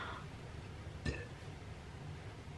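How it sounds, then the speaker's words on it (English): A person gives a single short, quiet burp against a steady background hiss. "I really gotta stop burping"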